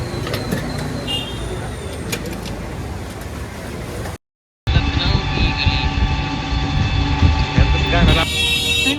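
A passenger train pulls up and stops at a railway station in Lucknow, its steady broad rumble briefly cut off, then resuming with a droning mechanical whine and hiss, while people talk nearby.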